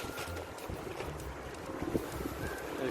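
Strong wind during a local hike, roaring steadily and buffeting the microphone with a low, continuous rumble.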